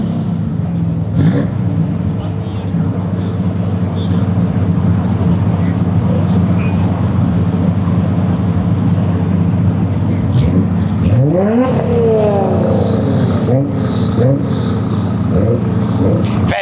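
At a street car meet in Japan, a Nissan Silvia S15's engine rumbles steadily at idle, then snaps through a couple of sharp rev blips near the end amid surrounding traffic noise.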